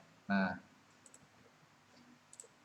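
A single loud key click on a computer keyboard, the Enter key pressed while entering a formula in a Microsoft Excel spreadsheet, with a few faint taps afterward and some speech around it.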